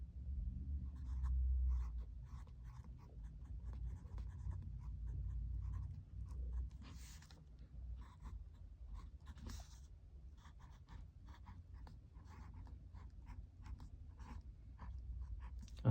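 A pen scratches steadily across paper, close and quiet, in a long run of short strokes and small pauses over a low background murmur, with no talking.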